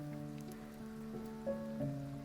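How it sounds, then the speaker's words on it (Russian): Oil sizzling in a pan as breaded chicken fillet nuggets fry, a soft, steady crackle under a constant low hum, with no talking. "Так аппетитно шипит масло."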